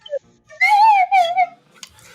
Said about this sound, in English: The tactical slide whistle.